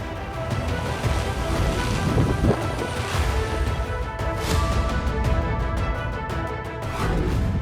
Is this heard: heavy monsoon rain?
yes